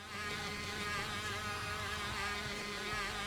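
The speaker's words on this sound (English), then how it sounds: "I hate how my bike sounds" Buzzing, high-pitched motorbike engine in a racing video game, a steady insect-like drone holding at close range throughout with slight pitch wavering and no pauses.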